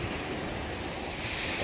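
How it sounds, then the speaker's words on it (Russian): Sea surf roars steadily at the central beach in Vityazevo, Anapa, a dense, unbroken wash of breaking waves filling the whole moment, with wind buffeting the microphone and no voices. "море шумит"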